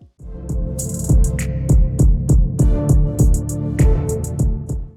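Synthwave beat with hi-hats embellished by extra notes, crisp bright ticks over punchy kick hits and a sustained synth pad in a steady driving groove, loud and alone.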